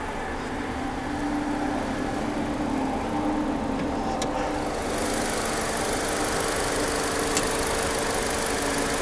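A 2019 Nissan Sentra S with a 1.8 liter four-cylinder engine and CVT transmission runs steadily, a continuous even hum and whir heard from inside the car, with no voices.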